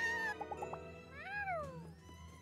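A cat meows a few short times in the farming life-sim game My Time At Sandrock, near and clear, followed by a longer rising-falling meow, with light game background sounds.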